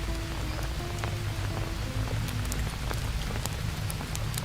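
Rain in the survival video game Green Hell, set in the Amazon rainforest, a steady dense patter throughout with scattered louder drops, fairly near and continuous with no talk over it.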